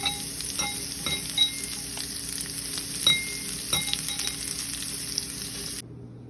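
Beetroot and white cumin fry in a pan with a steady, close sizzle that runs throughout, broken by a few faint clinks of a utensil before the sound cuts off near the end.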